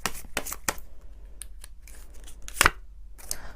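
A tarot card is drawn from the deck, with light papery shuffling and flicking of cards, a few sharp snaps and a louder slap near the end, close and fairly quiet with no talk.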